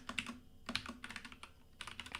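Steady rapid typing on a cheap computer keyboard whose E key sometimes double-registers, a dense run of close, clattery keystrokes with short pauses between bursts.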